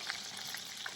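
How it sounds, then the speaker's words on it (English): Turkey necks browning in a pot for jambalaya make a brief, even, close-up sizzle and crackle, with no talking. "finish browning the other."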